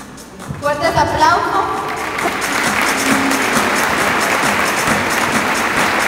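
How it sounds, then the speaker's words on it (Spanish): Someone speaks briefly in Spanish at a sponsor presentation, then a crowd breaks into steady, sustained applause that continues to the end. "Fuertes los aplausos."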